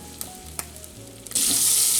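Butter melting in a pan for sausage gravy, with quiet stirring clicks at first, then a loud, steady sizzle that bursts in partway through and holds close and continuous to the end.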